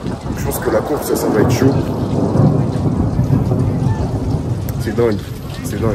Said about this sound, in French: il pleut de fou, il y a grave du vent